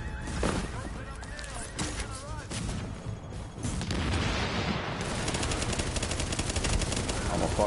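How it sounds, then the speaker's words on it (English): Shotgun and other gunfire blast repeatedly in The Division video game, a dense rapid string of shots that grows louder and steadier in the second half, with a player talking over the opening. "this is shotguns chasing me."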